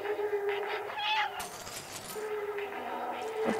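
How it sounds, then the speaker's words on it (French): Repeated cat meows in the video game Stray, several drawn-out calls in close succession over a steady game background hum. "Alors, faut miauler."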